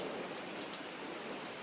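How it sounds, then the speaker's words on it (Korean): Steady rainfall patters over a campsite after dark, a thick, unbroken wash of drops on surfaces, near and fairly loud, with nobody speaking. "캠프장은 어두워지고 비가 내리기 시작했어요."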